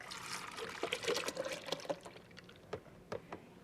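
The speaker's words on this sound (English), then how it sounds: "First, you pour in some milk" Milk poured into a glass for a homemade milkshake, a short liquid trickle and splash with a few small drips and clinks, close and fairly quiet with no talking.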